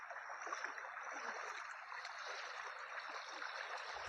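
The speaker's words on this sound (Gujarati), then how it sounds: "અને આ નદીનો અવાજ પણ કેવો મસ્ત છે, ખર ખર ખર।" The Rupen river in rural Gujarat flows and trickles in a soft, steady hiss of water, faint and continuous with no voices.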